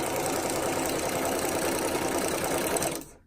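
Sewing machine stitching fabric, a steady fast mechanical whirring run held close and loud, then stopping abruptly at the end.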